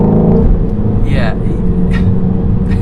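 Ford Mustang Shelby GT350 V8 at half throttle in third gear, a loud steady engine rumble and drone from inside the car that runs through the whole clip, with a brief rise partway through.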